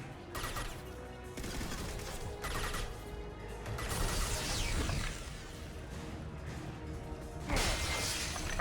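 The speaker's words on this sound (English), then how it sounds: "Are you joking me right now with this smashing of the thing?" Repeated smashing and shattering impacts from Mass Effect 2 gameplay, loud and continuous over dense game noise with crashing bursts and mechanical clatter, no talk.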